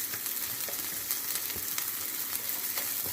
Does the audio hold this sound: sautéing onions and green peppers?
yes